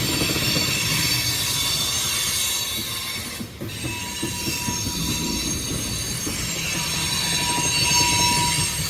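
A Union Pacific freight train with tank cars rolls past close by, its wheels squealing loudly and steadily over a continuous rumble of railcars, with no talking.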